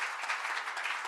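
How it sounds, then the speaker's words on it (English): Applause from an audience, a dense patter of many hands clapping at moderate volume for about a second. "a wonderful round of applause"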